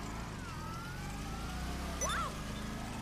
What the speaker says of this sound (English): That police car's still got sirens on.